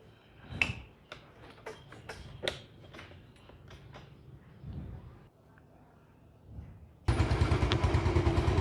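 A Yamaha Mio Sporty scooter starting up after several clicks and ticks from the ignition and brake switches, then the engine catches and idles loud and steady with a rapid even pulse.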